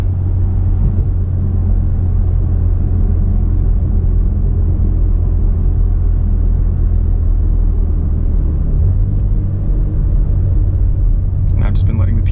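A 2018 Porsche Macan GTS with PDK gearbox driving in sport mode, a deep, steady engine and road rumble from inside the cabin with a brief shift in tone near the end and a voice over it.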